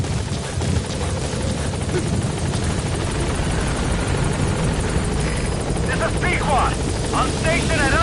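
The Pequod helicopter from Metal Gear Solid 5 approaches the landing zone with a loud, constant rotor roar and engine whine throughout, while radio voices talk over it.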